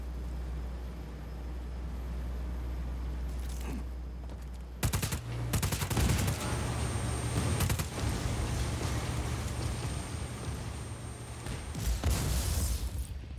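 In the video game Just Cause 4, gunfire hits a generator after a low engine-like hum, with a burst of sharp, loud shots followed by further irregular bursts and impacts over a sustained rumble.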